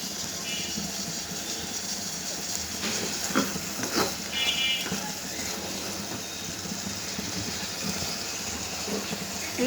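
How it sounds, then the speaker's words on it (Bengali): A pan of drumstick and lentil curry cooks with boiled masoor dal being added, giving a steady soft sizzle and bubbling with a few stirring scrapes, close and moderately loud. "এই পর্যায়ে আমি দিয়ে দিব সিদ্ধ করা ডালগুলো।"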